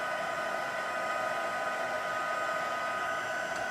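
Heat tool melting embossing powder on a stamped card makes a continuous steady blowing whir, like a small hair dryer, close and unbroken, with no talking.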